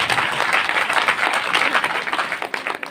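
Audience at a satsang gathering breaks into continuous applause, many hands clapping together in a dense, fairly close wash that thins slightly toward the end.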